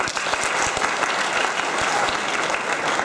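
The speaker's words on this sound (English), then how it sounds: "let's hear a round of applause for the top string" A live audience at a physics demonstration show on inertia claps in a steady, dense round of applause, loud and close, lasting the whole stretch with no talk over it.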